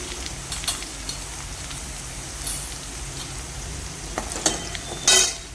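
Cumin and mustard seeds crackle and sizzle in hot oil for a home-cooked lunch tempering, a steady close frying hiss with scattered pops and a louder burst of spattering near the end, no talking.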